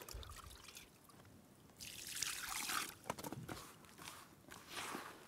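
Water poured into a bowl of fishing groundbait mix on a beach, a steady hissing trickle swelling and fading in a few surges over several seconds, close and fairly quiet.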